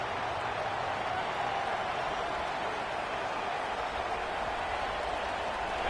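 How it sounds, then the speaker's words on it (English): Stadium crowd at a Florida vs Texas college football game, a steady, dense roar of cheering and noise filling the whole stretch without letting up. "This crowd ready to make its presence known."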